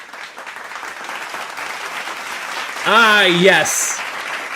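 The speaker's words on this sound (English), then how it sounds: "Give yourself a round of applause." An audience at a comedic VTuber award show applauds, a steady wash of clapping that runs the whole time beneath a presenter's voice, which briefly rises over it.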